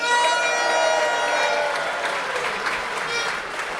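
Speedway crowd at a Poole Pirates Championship meeting against Edinburgh cheering and applauding, a dense steady roar of clapping and shouts that holds loud throughout and eases slightly toward the end.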